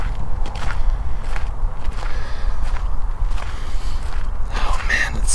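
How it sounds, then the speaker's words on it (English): Strong cold wind batters a microphone fitted with a windsock, producing a constant, loud low rumble with gusty buffeting bursts and no speech. "I'm just getting hammered by wind right now."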